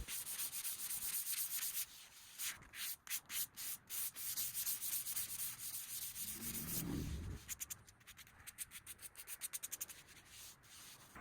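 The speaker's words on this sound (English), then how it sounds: "I just took 180 grit sandpaper and lightly sanded that off" Sandpaper of 180 grit rubs lightly over a wooden dresser to knock down raised grain, making a continuous hiss broken by quick back-and-forth strokes, with a brief low thump midway and faster rhythmic strokes near the end.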